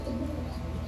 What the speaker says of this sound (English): So look at that, beautiful bird.